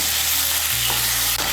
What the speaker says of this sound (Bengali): দিয়ে দিচ্ছি সামান্য একটু জল যেন আদা বাটাটা না ছিটকোয়।